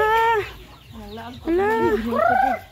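Chickens clucking and squawking nearby in a series of loud, rising calls, with faint background noise.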